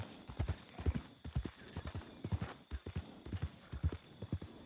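Horse hooves gallop in Red Dead Redemption 2 with a rapid, uneven clip-clop that is close and clear and continues without a break. A soft snort comes through, and no one speaks.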